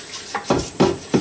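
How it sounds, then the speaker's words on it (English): A metal stock pot scraped and knocked during cleaning after boiling bones for pho, four distinct clanks in an uneven rhythm, close and fairly loud. "just clean that pot out again"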